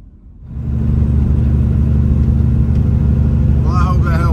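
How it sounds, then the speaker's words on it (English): Semi truck engine turning over and catching, settling into a loud, steady diesel idle with deep rumbling harmonics; brief speech-like sounds near the end. "let's fire up this truck"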